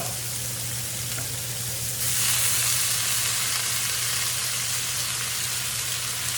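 Striped bass fillet and beans sizzle loudly in a pan with butter and lemon juice, a steady dense frying hiss that swells and brightens midway as more liquid hits the hot pan, with no speech.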